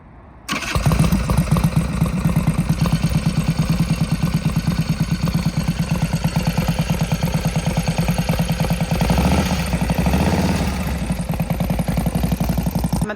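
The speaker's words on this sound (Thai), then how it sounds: "มันก็เลยตัดสินใจเอาเป็น FXRT นะคะ Harley Davidson ปี 1984" A 1984 Harley-Davidson FXRT motorcycle engine fires up and runs steadily and loudly close by, with a rapid, even rumbling pulse throughout and no talking.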